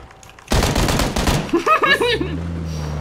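A rapid burst of automatic gunfire in the battle royale game PUBG erupts after a brief quiet and lasts about a second, followed by a voice talking.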